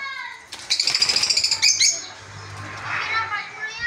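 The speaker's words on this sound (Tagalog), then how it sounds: "Kaya yun yung update ng aking African lovebirds." African lovebirds flap their wings in a quick burst of rhythmic beats, then give bright chirps and tweets close by, with some softer bird calls trailing after.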